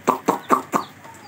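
Colourful chicks cluck in four quick, close, evenly spaced calls, followed by faint chirps, with no talking.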